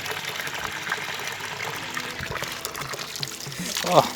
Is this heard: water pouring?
yes